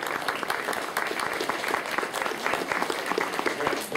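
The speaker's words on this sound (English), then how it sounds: "ask for a round of applause for them" Steady, dense applause from an audience at a formal event on international peacekeeping, a continuous wash of clapping throughout with no pauses.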